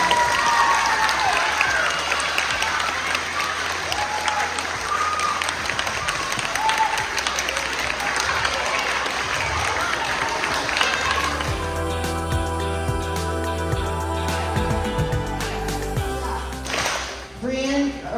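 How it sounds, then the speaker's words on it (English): A crowd at a school trimester award ceremony breaks into sustained applause, dense clapping filling the room for most of the stretch, with scattered voices mixed in. "Give them a big round of applause."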